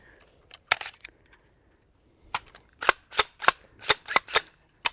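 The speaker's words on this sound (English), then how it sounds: "That is loud out of a pistol." Pistol shots fired at a backpack, a string of sharp loud cracks, a few scattered early ones followed by a rapid run of about eight evenly spaced shots, with a faint voice beforehand.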